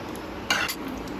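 Chicken gravy is stirred in a pan with tomatoes, giving a short scraping burst against a steady background hiss of simmering.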